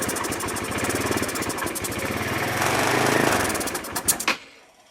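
A 150cc GY6 scooter engine with a cracked carburetor boot runs with a steady, buzzing idle and close, continuous rattle, rising briefly before sputtering out and cutting to silence near the end.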